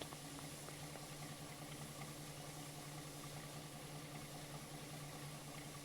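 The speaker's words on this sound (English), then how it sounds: "There's just a lorry out there making noise." A lorry engine idles outside, a faint, distant, continuous low hum and drone that holds steady throughout with no other sounds.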